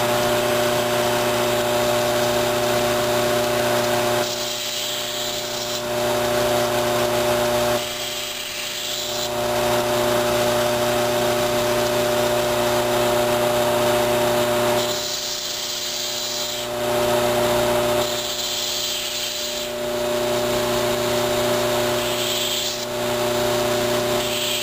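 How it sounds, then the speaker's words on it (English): Continuous steady grinding on the edge of a forged everyday-carry knife blade, a loud close machine whir with a constant hum and rhythmic dips as the blade is passed repeatedly across the abrasive. "So I'm going to go ahead and grind the edge"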